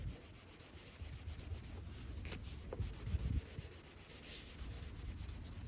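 A Tolecut block rubbing scratches out of Maserati car paint, making a continuous soft, gritty sanding rasp with small variations in pressure, close and fairly quiet, with no voices.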